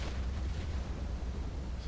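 Space battle explosion in Star Wars Empire at War, a rumbling, dense blast with sustained low roar and crackle, loud and continuous throughout with no talk.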